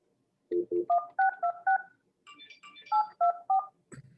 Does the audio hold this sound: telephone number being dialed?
yes